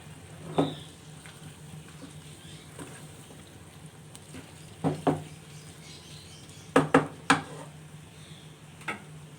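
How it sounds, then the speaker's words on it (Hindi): Tomatoes stirred and frying in a pan for a mutton mince and potato curry: a low, steady sizzle with a few sharp clacks and scrapes of the spoon, no talking. "और अच्छी तरह से टमाटरों को भी भूनेंगे।"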